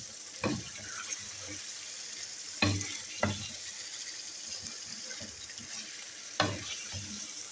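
Chicken qorma with yogurt cooks in a pot and is stirred, giving a steady sizzle and bubbling with a few sharp scraping strokes of the spoon against the pot, close and fairly loud.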